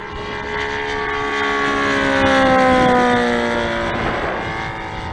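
Saito FG90 R3 four-stroke model aircraft engine in a TF Corsair running at half throttle, a steady droning buzz with harmonics that drift slightly in pitch, swelling louder mid-clip as it passes, with no talk.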